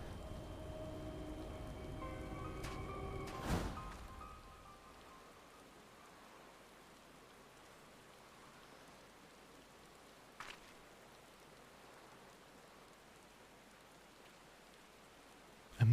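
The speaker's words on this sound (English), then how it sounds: "Amidst the sound of falling rain," Steady falling rain in the video game Final Fantasy XIV Shadowbringers makes a soft, even hiss that continues alone after a tonal musical swell fades out early on.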